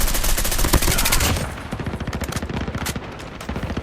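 Dense rapid gunfire from a video game shooter, loud and continuous bursts at first, then steady rhythmic automatic fire that keeps going throughout, with no talking.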